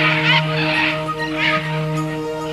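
Birds calling at dawn in the Manu rainforest of Peru, a loud layered chorus of harsh, honking bird cries in repeated bursts over a steady tonal drone, close and dense, with no talking.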